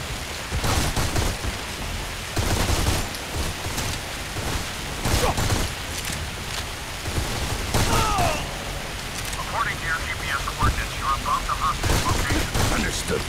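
Gunfire in the mobile shooter Modern Combat 4: Zero Hour: repeated bursts of automatic shooting against a constant noisy combat backdrop, with brief radio-style voices and other battle effects mixed in.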